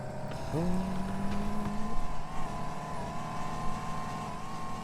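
A Mazda RX-7 engine in the video game Car For Sale revs up sharply, holds a brief rising tone, then settles into a steady drone at moderate loudness.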